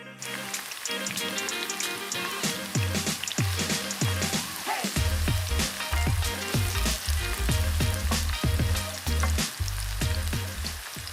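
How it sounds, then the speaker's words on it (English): Ginger and vegetables sauteing in a pan give off a loud, steady sizzle, broken by repeated stirring clatters with a rhythmic beat throughout. "We are now going to saute our vegetables and start with ginger."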